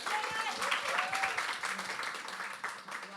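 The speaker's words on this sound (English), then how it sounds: "Round of applause for our panel." An audience at a live self-love panel event applauds steadily for the panelists, moderately loud clapping that carries through the whole moment.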